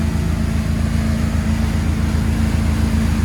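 A Bayliner 255 boat with a Mercruiser 5.0L MPI 260 HP engine and Bravo 3 drive cruises at about 3,500 RPM and 22 mph, producing a steady, loud, low engine drone with no talking.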